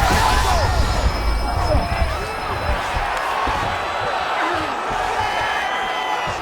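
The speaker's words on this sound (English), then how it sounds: "huge pop from the crowd as the fighters get back up to their feet" Crowd roaring and cheering in the EA Sports UFC 5 video game as two fighters get back to their feet, a dense, loud arena swell with scattered shouts filling the whole span.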